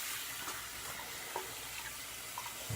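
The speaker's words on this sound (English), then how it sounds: "Just give our tools a little rinse here. Clean off this brush." Shaving brush and razor tools rinsed under a running tap: a steady, soft hiss of flowing water with faint splashes and small clinks, heard quietly and alone.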